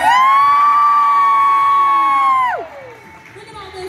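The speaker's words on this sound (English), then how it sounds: "Look at all those people cheering for you." A crowd cheers and whoops at a children's beauty pageant, loud and steady at first and then dropping away sharply near the end, leaving a quieter murmur of the audience.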